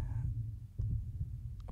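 Low, muffled heartbeat thuds from the Dead Space Extraction video game on Wii, a slow double pulse repeating twice, faint and close with no talking.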